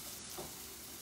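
Onions frying in a pan until brown for a spiced chickpea curry; a brief, even, quiet sizzle with a faint crackle, no speech.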